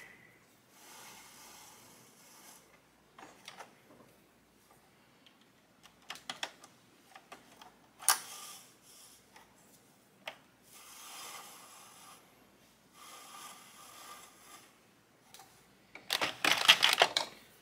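An Addi knitting machine being cranked around, giving bursts of close, dry plastic clicking and ratcheting that start and stop in uneven runs, with the loudest rattle near the end.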